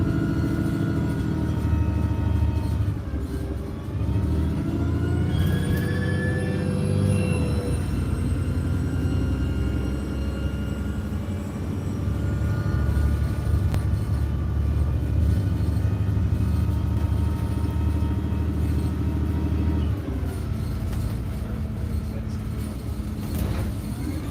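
A bus engine rumbles steadily throughout the ride, a loud, continuous low drone from inside the vehicle with shifting gear and motor tones and no clear break.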